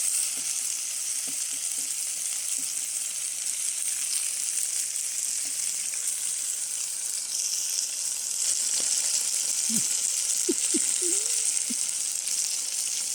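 Potatoes fry in a pan outdoors, not on gas, with a constant bright sizzle and scattered soft clinks and scrapes of stirring.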